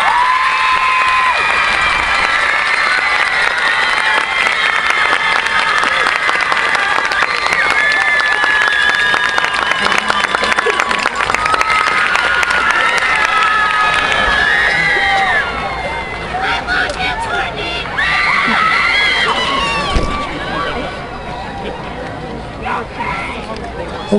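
Crowd applauding and cheering at an autumn classic awards ceremony, with sustained clapping, whoops and shouts from a large audience and some children's voices.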